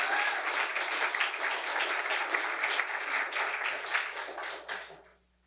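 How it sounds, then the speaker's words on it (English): Audience applause at a scientific society lecture: dense, even clapping from a seated crowd that holds steady and then tapers off and stops near the end. "We can applaud again"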